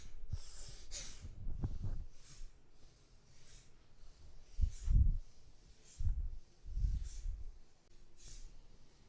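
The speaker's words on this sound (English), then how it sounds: "Bastrika, forceful inhales and exhales," A person does bhastrika yoga breathing, with forceful nasal inhales and exhales in quick, close bursts. The puffs come in uneven clusters, with short pauses between them.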